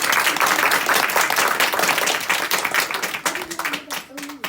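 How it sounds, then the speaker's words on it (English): A room full of people claps in a dense burst that gradually thins out, with a voice starting to talk over the fading applause near the end. "Let's give him a round of applause"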